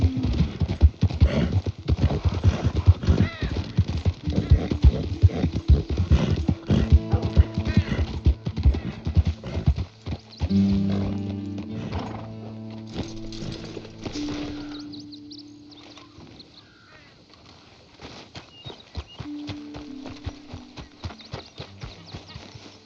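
A horse in Red Dead Redemption 2 gallops with rapid, loud hoofbeats, then slows to an uneven trot, with a whinny and brief rider voice mid-clip over quieter game ambience.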